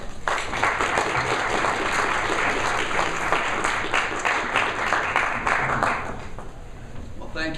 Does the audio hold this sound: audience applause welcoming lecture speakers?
yes